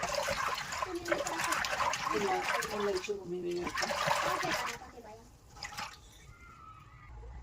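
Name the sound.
water washing soaked green peas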